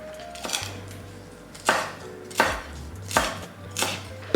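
A knife chops vegetables on a cutting board for a chicken and egg noodle soup: a handful of crisp, evenly spaced cuts, close and clear, with quiet kitchen background between strokes.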